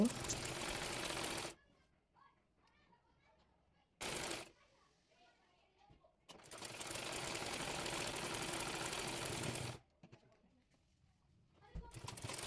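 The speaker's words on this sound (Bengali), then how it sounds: "এরপর হাতাটি সোজা করে নিয়ে বডি পার্টের সঙ্গে সেলাই করে নেব।" Domestic sewing machine stitching the straightened sleeve of a kameez onto the body piece, running in several sustained bursts separated by short quiet pauses, close and fairly loud.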